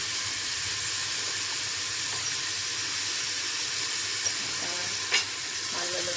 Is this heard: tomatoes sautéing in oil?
yes